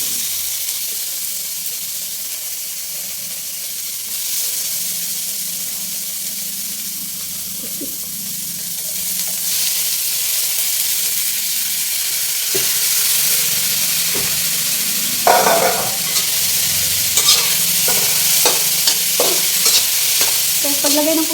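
Squid with tomato sizzles in a hot pan while being stirred, a steady loud hiss of frying with scraping and clinking of the utensil against the pan growing busier toward the end.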